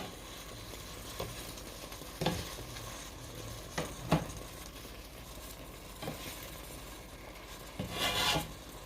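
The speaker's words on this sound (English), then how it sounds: "I'm just gonna use a spoon that has some holes in it to transfer my meat from one pan to the other" Cooked ground beef being scooped with a slotted spoon and moved from one frying pan to another, with soft scrapes and clinks at irregular moments over a faint steady sizzle, close and quiet.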